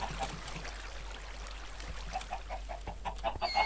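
Chickens on a Minecraft chicken farm give short, repeated clucks, soft and slightly distant, over a low steady hum, and the clucks grow busier toward the end.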